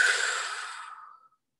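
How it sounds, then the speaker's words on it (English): One long, deep breath during a meditation, close and soft, airy and fading out over about a second before silence. "So let's just breathe that in."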